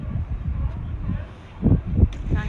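Low, gusty wind buffets the microphone with rumbling bursts, some stronger than others, and faint voices are audible beneath.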